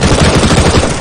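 A rapid burst of automatic gunfire in a video game, dense overlapping shots for about a second, loud and close.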